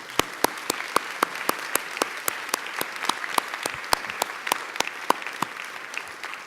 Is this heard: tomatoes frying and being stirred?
no